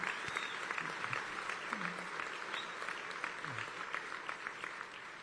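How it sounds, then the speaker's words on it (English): Sustained applause for the Alabama A&M band fills the space, a dense steady clatter of many hands clapping at even loudness throughout, with faint crowd noise underneath. "Let's give them another round of applause."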